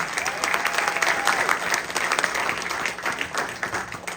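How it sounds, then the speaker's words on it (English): An audience at a spring band program showcase claps in a sustained round of applause, dense and fairly close, with a few loud individual claps and faint crowd murmur mixed in. "Let's give him one more big round of applause."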